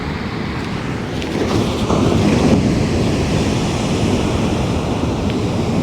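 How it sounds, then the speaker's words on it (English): Powerful waves crash and churn nearby, the roar swelling after a couple of seconds and holding steady, with gusty wind noise on the microphone. "Just huge barreling waves smashing into these rocks."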